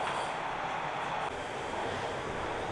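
A Toronto subway train gives a steady, loud broadband rumble and rush of wheels on rails, continuous throughout with no voices.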